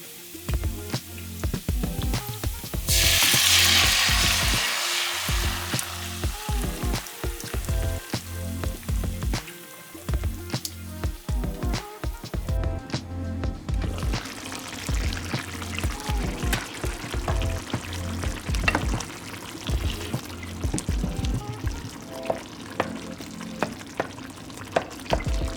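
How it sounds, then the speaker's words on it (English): San Marzano tomatoes tip into a hot pan for plant-based sausage rigatoni, giving a loud rushing pour and a burst of sizzling that settles into steady frying with faint clatter. "Now we're gonna add the San Marzano tomatoes."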